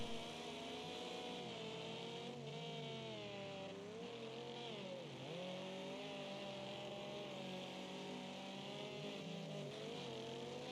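Several race cars in the Wreckfest video game run the Trans-Am series at Firwood, engines droning and shifting pitch steadily as they pass and rev, loud and continuous throughout with no talk.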